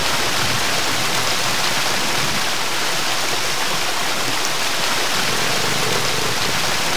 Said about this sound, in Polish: Całkiem głośny ten wodospad.